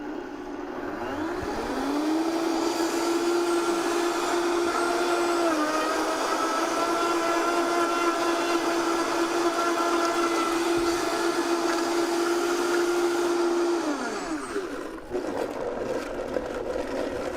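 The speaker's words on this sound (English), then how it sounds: "You got that fancy Vitamix blender." A Vitamix blender whirs through green goddess dressing, first ramping up, then roaring at a steady high speed for about twelve seconds before it winds down and stops, loud and close.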